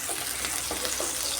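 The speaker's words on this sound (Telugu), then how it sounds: "1 కప్ ఎర్రగడ్డలు వేసుకుందామండి. ఇప్పుడు బాగా వేగించుకుందామండి." A cup of onions fries in hot oil in a pan for a beans curry. A brief, continuous, close sizzling hiss carries on without any voices over it.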